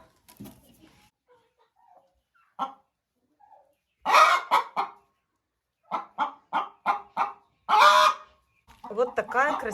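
Hens in a coop cluck in short, sharp bursts while pecking at crushed feed shell, the clucks coming in quick irregular clusters. Quiet pauses fall between the bursts.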